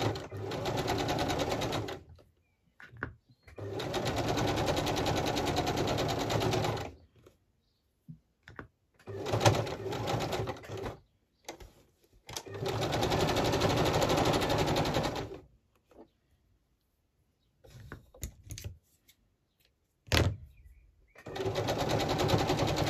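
A sewing machine stitches fabric applique for a journal cover in several sustained, loud, close runs of rapid needle chatter, broken by pauses filled with sharp clicks and handling noises.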